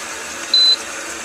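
A rice cooker gives a single electronic beep, short and clear, once over a quiet hum of room noise.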